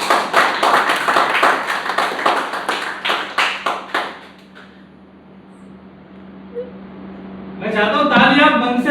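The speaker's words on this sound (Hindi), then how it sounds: "एक बार तालियां बजा दीजिए।" An audience at a Bhojpuri poetry recital claps in a string of distinct, fairly close claps for about four seconds, then goes quiet before a voice starts speaking.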